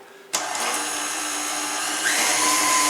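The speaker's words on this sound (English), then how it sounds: "we're going to cream the butter and sugar together just until they're light and fluffy" An electric mixer switching on abruptly to cream butter and sugar at medium speed for a chocolate red wine cake, a loud steady whir that rises slightly in pitch partway through, no talk.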